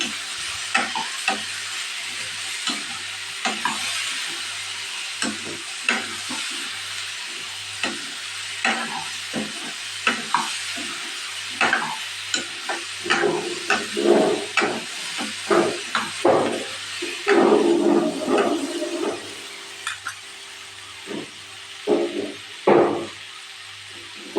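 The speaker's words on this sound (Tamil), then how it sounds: "சேர்த்து ரெண்டையும் நல்லா மிக்ஸ் பண்ணிக்கலாங்க" Potatoes and a small piece of yellow pumpkin stirred together in a pan for a potato pumpkin gravy, with steady scraping and sizzling strokes that build louder toward the end, no talking.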